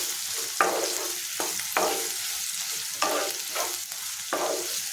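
Onions and green chilies frying in a pan for a dry prawn and broad bean curry, a constant bright sizzle broken by about six sharp scraping stirs of the spoon, close up with no talking.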